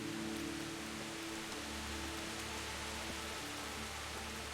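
Steady rain pours down in the video game Kingdom Come: Deliverance, a continuous even hiss of drops on surfaces with a faint low hum beneath, constant and unbroken throughout.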